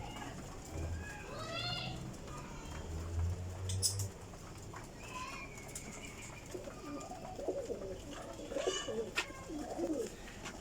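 Sialkoti and Kasuri pigeons coo softly and repeatedly, with light fluttering and pattering nearby and scattered bird sounds in a quiet setting.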